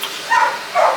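A neighbor's dog gives two short, loud barks about half a second apart, somewhat distant over a steady background hum, near a garage where a 1967 Chevrolet Impala dash is being reassembled.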